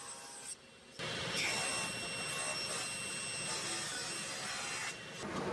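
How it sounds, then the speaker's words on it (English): A padauk wood board being ripped in half by a saw: a steady, loud whine with a grinding cut that starts after a short quieter lead-in and runs almost to the end before easing. "I needed to rip some of this padauk in half, that way I could book match it"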